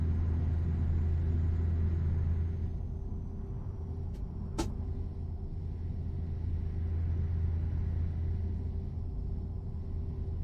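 Steady low truck engine rumble from a lorry in Euro Truck Simulator 2, droning continuously at an even level with a brief click partway through and no talking.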